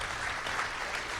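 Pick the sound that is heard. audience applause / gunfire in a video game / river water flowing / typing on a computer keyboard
audience applause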